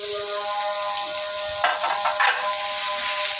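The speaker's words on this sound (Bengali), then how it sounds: "আমি এই যে তরকারির জন্য আলুটা ভেজে নিচ্ছি" Potatoes frying in oil for a curry, a loud steady close sizzle with a brief stirring scrape in the middle, alongside a faint constant tonal hum and no talk.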